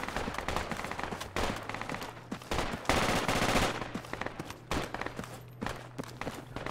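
Dense, sustained video game gunfire fills the stretch, with overlapping bursts of automatic weapons and rapid shots firing at a cash building. It comes loud and continuous with a brief heavier volley near the middle and occasional footsteps underneath.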